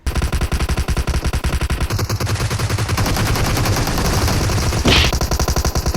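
Rapid automatic gunfire in PUBG Mobile on the Vikendi map: long, loud, continuous bursts of fast shots fill all six seconds, with a brief sharper crack near the end and no talking.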